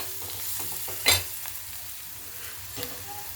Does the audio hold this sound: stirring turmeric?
yes